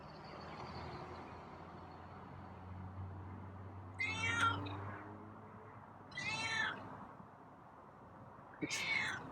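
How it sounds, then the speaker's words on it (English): A feral cat meows three times, each a short nasal call spaced a couple of seconds apart, fairly close over a low indoor hum and quiet background. "What's the meow for?"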